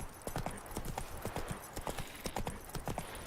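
Hooves of Roach, the horse in The Witcher 3 video game, clip-clop in a quick, steady walking rhythm, close and clear, with no talk over them.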